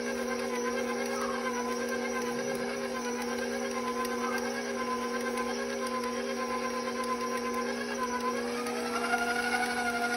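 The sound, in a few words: electric mixer mixing M&M cookie dough with egg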